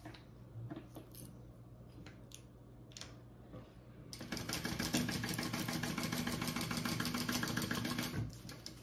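A sewing machine stitches across the wide bottom ends of a Pachira bag, a steady fast mechanical whir of the needle running continuously at close range for about four seconds after a quieter stretch of faint handling.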